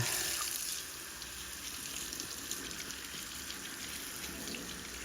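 Running tap water rinses soap out of a doll's thick hair, a steady soft gushing and splashing that stays fairly faint and continuous throughout.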